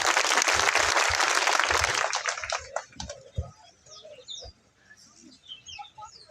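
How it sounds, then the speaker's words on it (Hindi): Applause from a rally crowd at an outdoor political gathering, dense and loud for about two seconds before breaking into scattered claps and fading, leaving faint birdsong and clucking fowl in the background. "जोरदार तालियों के साथ में स्वागत।"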